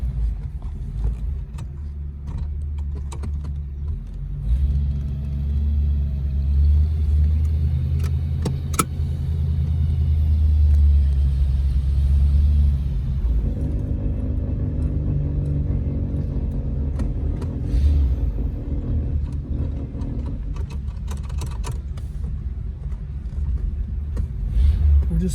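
A 1947 Packard Super Clipper drives along, its engine a steady low rumble heard from inside the car, with a shift in tone partway through and light rattles and clicks over it.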